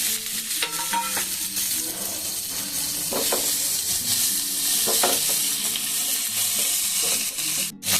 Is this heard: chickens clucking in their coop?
no